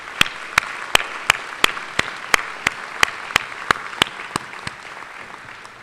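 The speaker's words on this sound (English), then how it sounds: "Please join me in a final round of applause for our 2024 Ashbel Smith Distinguished Alumni Award recipients." An audience claps at a medical school commencement ceremony, with steady, evenly spaced claps ringing out over a soft background murmur.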